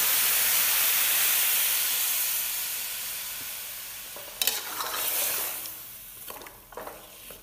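Potato, radish and mushrooms stir-frying in a pan as coconut water is poured in, a broad hiss that fades, then softer sizzling with a few utensil scrapes and stirring sounds.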